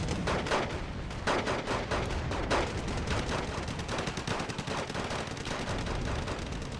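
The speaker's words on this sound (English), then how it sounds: "Rocket artillery being fired." Rocket artillery firing in Wargame: Red Dragon, a dense, steady barrage of rapid rumbling launches and bursts that continues without pause, loud and with no talking over it.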